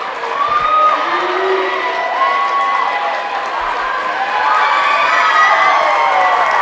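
A basketball game crowd cheers and shouts continuously, with excited children's voices and whoops rising over a dense, loud roar throughout.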